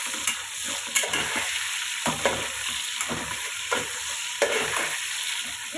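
Tomatoes and onions for a village-style fish curry frying in a pan, a soft continuous sizzle broken by repeated scraping stirs of a spoon every second or so, with no talking.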